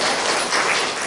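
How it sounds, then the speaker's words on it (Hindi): Church congregation clapping together during a worship service, a dense burst of applause filling the short moment, loud and steady without speech. "ताली बजाइए।"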